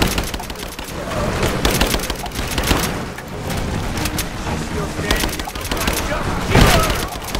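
Dense suppressing gunfire from enemy soldiers in the video game Rise of the Tomb Raider crackles in rapid, overlapping bursts, loud and close, with occasional heavier booms and shouted voices mixed in.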